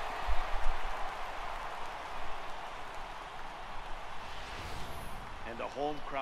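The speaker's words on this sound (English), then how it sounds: "the home crowd has really come to life here in the bottom of the eighth" Home crowd noise from a baseball stadium in MLB The Show 18 during the bottom of the eighth, a steady broad roar of cheering filling the clip, with a commentator's voice starting near the end.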